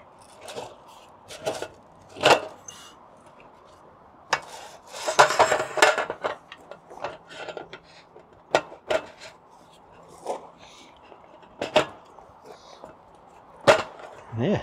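Aluminum pieces of a Winnebago View RV accessory being handled and slid into place at the ends, giving scattered metallic clinks, knocks and a short scraping rattle, close and intermittent.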